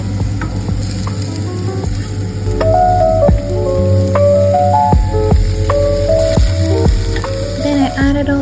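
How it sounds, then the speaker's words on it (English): Pasta and chicken with other ingredients frying in a hot pan: loud continuous sizzling and crackling, with a low hum and scattered scraping clicks of stirring, close and steady throughout. "After preparing my pasta, I had to start frying all my ingredients."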